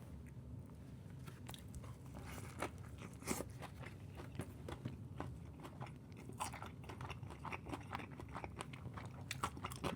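Close, crunchy chewing of a Five Guys mini cheeseburger with mayonnaise, lettuce, tomato and pickle, steady soft mastication with small crisp bites scattered through, no talking.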